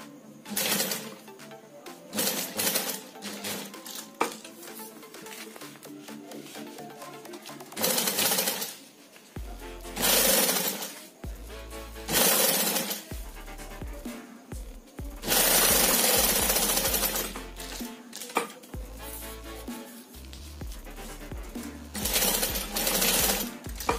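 A sewing machine stitches a webbing strap onto a cloth shopping bag in rapid mechanical bursts, loud and close, with short pauses between runs of stitching.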